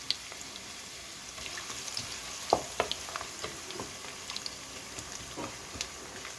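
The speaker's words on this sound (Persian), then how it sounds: "پیازام رو سرخ میکنیم" Onions frying in hot oil, a quiet steady sizzle broken by scattered soft pops and crackles, close and without talk.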